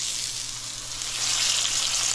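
A freshly caught fish fries in a pan with onions, giving a continuous, close sizzle that grows louder and brighter partway through.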